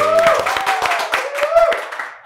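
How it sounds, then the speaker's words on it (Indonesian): A few people in a small studio give a short burst of clapping to welcome a filmmaker, with voices talking over the claps. "Tepuk tangan dong."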